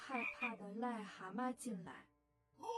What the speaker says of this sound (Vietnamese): rồi thả vào con cóc ghẻ cô sợ nhất